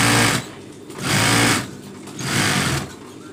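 Sewing machine stitching a silk bedsheet, running in three loud bursts of rapid mechanical whirring separated by brief pauses, close up with no talk.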